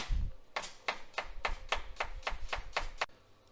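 A knife chops onion finely for Antep-style spicy ezme, striking a board in about ten evenly spaced, crisp taps, close and fairly quiet.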